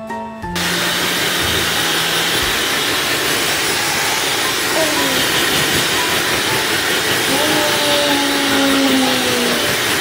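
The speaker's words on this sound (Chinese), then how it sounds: "我们沙龙就是用最高级的 Dyson 吹风机哦" A Dyson hair dryer blows steadily and loudly during a baby's first haircut at home, a constant close airy roar lasting the whole stretch with a faint whine and a few soft voices underneath.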